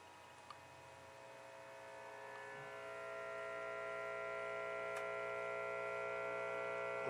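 Restored Philco 15DX vintage tube radio giving a loud, steady mains hum with buzzing harmonics, growing stronger over the first few seconds and then holding constant, with a faint tick.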